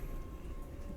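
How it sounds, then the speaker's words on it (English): A passing train, a faint low rumbling roar with steady broadband noise and a thin tonal line, continuous and distant with no speech over it. "It's a train."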